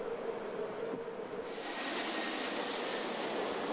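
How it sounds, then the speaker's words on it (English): Jet airplane coming in to land near a beach, a steady broad roar that swells and brightens partway through, heard from a distance with continuous wind-like rumble and no talking. "And there's a jet coming in."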